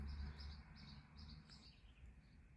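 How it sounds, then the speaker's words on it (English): Wild birds chirp outside in morning trees with faint, repeated high tweets spaced in short bursts, distant and quiet over low background hum. "in the morning there are a lot of birds that kind of hang out there"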